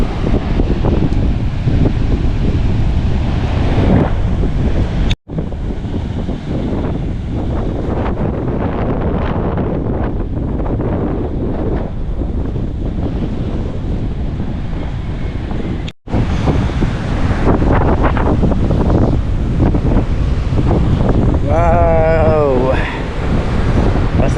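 Strong wind and waves on a sea shore with muddy, chocolate-brown water and boats, a loud continuous roar of gusts buffeting the microphone over surf, with two brief dropouts and a voice speaking near the end.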